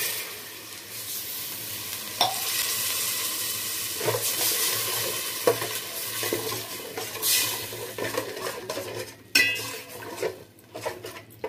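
Tomato rice simmering in a pan just after chili powder and about a cup of water go in, with a continuous close sizzle broken by scraping stirs and clinks of a utensil against the pot.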